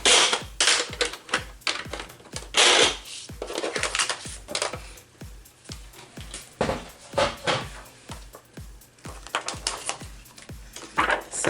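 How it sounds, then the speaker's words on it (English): Paper being scored with a tool along a score line for a papercraft embellishment, a rapid series of sharp clicking taps, close and fairly loud, with no speech. "then we're going to score another 1/2 inch right here"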